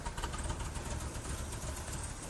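A 1983 BMW 320i engine idles roughly with a lumpy, uneven cam lope, a steady low rumble that pulses irregularly, moderately loud, with no talking.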